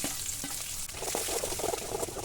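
Urad dal and onion fry in a pan for curd uppittu, a steady crackling sizzle that runs the whole time with a few soft stirring scrapes, close and moderately loud, with no voices.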